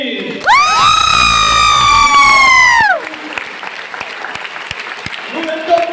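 An audience claps in scattered, uneven bursts after a loud sustained tone cuts off, with the claps carrying on at moderate volume to the end.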